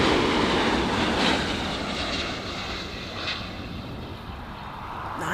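An Airbus A350 from Taipei touching down at LAX, a broad, loud jet roar close by that swells slightly and slowly eases off, with no voices during it.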